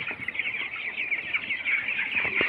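Many young broiler chicks cheeping continuously in a dense, high-pitched chorus, close by, with faint scuffling underneath and no voices.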